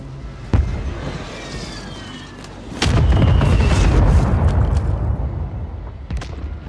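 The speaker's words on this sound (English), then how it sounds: "Missile launched at designated target." A missile strike in Call of Duty on Rebirth Island lands as a sharp crack followed by a loud, sustained rumbling explosion, with scattered smaller pops and booms around it.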